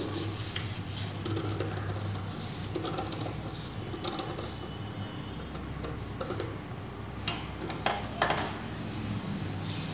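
Scissors snipping through a marked fabric piece for sleeves in a tailoring session, a near stream of crisp rasping cuts and small clicks repeating steadily at close range.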